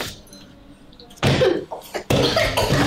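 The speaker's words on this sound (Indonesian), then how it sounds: "Batuk aja begitu." A child at home gives a loud, close cough, then a brief pause and a second harsh cough burst, with no talking over it.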